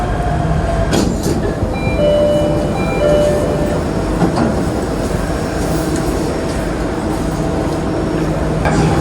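Jakarta MRT subway train heading toward Lebak Bulus station, heard from inside the car as a loud, steady rumble and rail roar with occasional rattles and faint tonal whines throughout.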